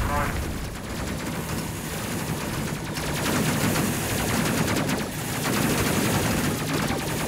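Ship guns firing in the space combat game Space Crew: steady, loud bursts of rapid gunfire and blasts that continue through the whole stretch, with a player talking over them.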